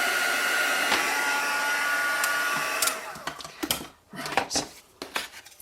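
A heat tool blows steadily at close range, melting embossing powder into a metallic gold finish on a card-making craft project, the continuous airy roar cutting off partway through before scattered light taps and clicks follow.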